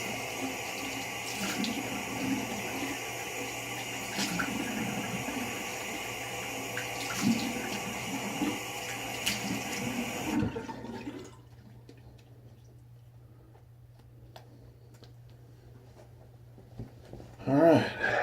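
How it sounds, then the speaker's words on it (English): A razor rinsed under a running tap, with a steady close flow of water and a few clinks for about ten seconds, then the water stops, leaving faint room sound and a small clatter at the end. "Go ahead and quick rinse"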